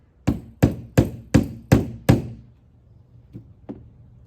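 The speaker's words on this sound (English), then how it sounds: "you can use your rubber mallet or hammer." A rubber mallet knocks a bearing press tool down into a motor in six quick, evenly spaced solid thunks, followed by two lighter taps after a short pause, close and clear.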